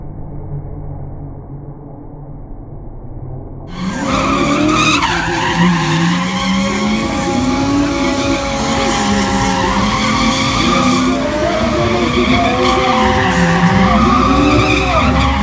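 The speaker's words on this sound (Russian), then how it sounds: "появится чемпион Украины в шоссейных кольцевых мотогонках Александр Гергиев" A Ukrainian road-racing champion's motorcycle performs in an event ring, its loud engine snarling and rising and falling with screeching tire skids, starting abruptly after a quiet murmur and continuing without pause.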